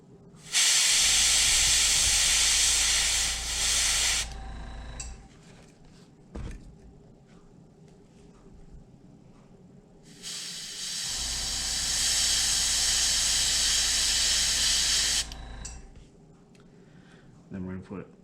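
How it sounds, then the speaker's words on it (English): An airbrush sprays Badger Model Air paint onto the eye ports of a fishing lure in two loud, steady hissing bursts of several seconds each, with quiet pauses between them and a short final puff. "the paint I'm using here is a Barlow Model Air. It's already airbrush ready, and I mean, it just goes on really, really nicely. I'm gonna hit these eye ports."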